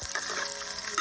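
Garlic frying in hot cooking oil for a pineapple-braised pork hock adobo, a steady bright sizzle with soft crackles running through the whole second.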